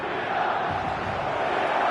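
A dense stadium crowd at Saitama Stadium in the eFootball football video game, a steady roaring wall of cheering with no breaks.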